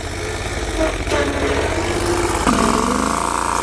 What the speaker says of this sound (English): Engine's running good now.